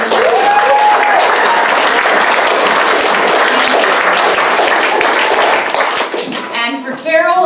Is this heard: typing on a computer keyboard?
no